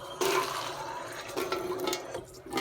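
Water is poured onto a napkin in short splashing bursts, a first long pour followed by briefer ones, close and fairly loud.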